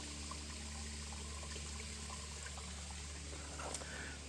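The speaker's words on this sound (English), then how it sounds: "This is usually filled with water, nothing but a trickle." A faint, steady trickle of water runs continuously down a nearly dry waterfall under a low outdoor hum, thin and quiet throughout.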